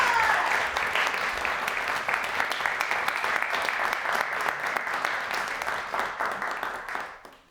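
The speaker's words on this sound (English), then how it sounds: "One more round of applause." Sustained audience applause follows a speaker's closing thanks at a poetry event, a dense wash of many hands clapping that holds steady and then fades out at the end.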